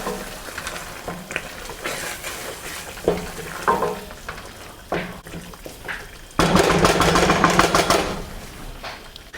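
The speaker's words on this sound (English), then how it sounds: "give it a quick stir." A pot of jollof rice with uda seed is stirred, giving soft scraping and sizzling sounds with occasional knocks, then a louder burst of bubbling and frying near the end.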